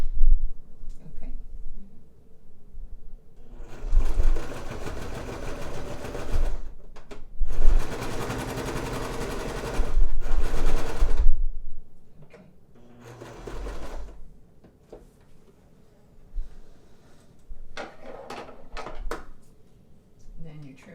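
Sewing machine stitching a fleece hat, several loud, close bursts of rapid mechanical whirring and needle clatter separated by pauses, with someone talking between and over the runs.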